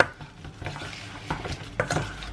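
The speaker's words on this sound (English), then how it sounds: "So I'm making some banana fritters real quick for breakfast." Banana fritters cooking in a pan for breakfast, with a steady sizzle of frying and stirring, plus a few clear utensil scrapes and knocks against the pan close by.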